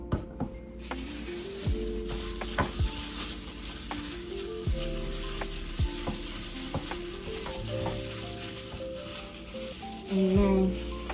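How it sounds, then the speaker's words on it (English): Spoon scraping and stirring through teriyaki sauce thickened with cornstarch in a pan, a soft sizzle beneath repeated scrapes, with a louder bubbling burst near the end. "you just keep mixing and mixing until it's nice and thick"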